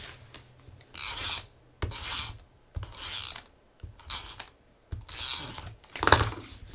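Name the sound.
tape runner taping down paper scraps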